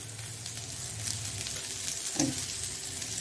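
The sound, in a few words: pathrode shallow frying in oil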